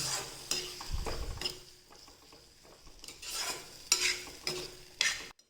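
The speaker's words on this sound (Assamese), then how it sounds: "2-3 মিনিটলৈকে মই এই বিলাহীখিনি এইদৰে ভাজি থাকিম" Tomatoes stir-fried in a pan, heard as repeated scraping strokes of a spatula against the pan over a low sizzle, in several bursts with pauses between, close and fairly loud, no talking.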